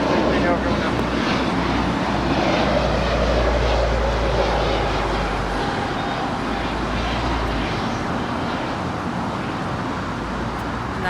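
Virgin Atlantic Airbus A350-1000, three years old, at Los Angeles airport, a sustained distant jet roar with a heavy low rumble, steady across the whole stretch with faint traffic-like background noise.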